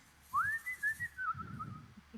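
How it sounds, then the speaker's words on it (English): A person whistles a short wavering tune, rising then gliding down, quiet and close, with faint low murmuring in the background. "I need to get a song where I can whistle."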